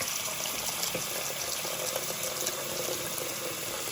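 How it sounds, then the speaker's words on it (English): Water gushes from a tap into a kitchen sink, a steady, close splashing hiss that continues evenly throughout with no talking. "let's go ahead and fill up our sink"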